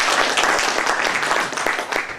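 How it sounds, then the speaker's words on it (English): A room full of people breaks into a short burst of applause at a thank-you presentation, dense, continuous clapping heard close and loud for a couple of seconds. "Can we give them an applause?"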